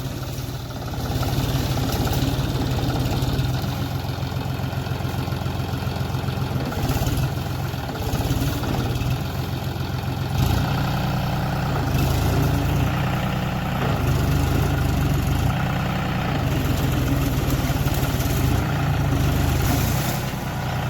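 A John Deere tractor loaded with wood runs at a steady idle, a loud continuous low engine rumble with slight variations, close by, with no voices.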